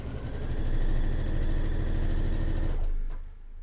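A sewing machine runs steadily while stitching quilt fabric, a loud, close, fast mechanical hum and rapid needle chatter that winds down and stops near the end.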